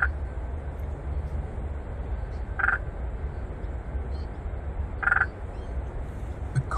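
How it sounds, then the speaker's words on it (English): A spotted marsh frog calls from a suburban nature reserve in winter, giving two short, clicking croaks a few seconds apart over steady outdoor background noise. "A spotted marsh frog."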